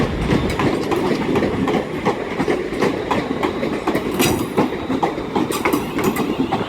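A class 350 passenger train runs through Carlisle station, with a steady rumble, rhythmic clickety-clack of wheels over rail joints, and faint squeals, loud and close.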